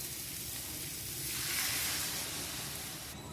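Tomatoes and masala sauté in oil for chana masala gravy, a close, steady hissing sizzle that swells slightly in the middle and carries on alone without talk.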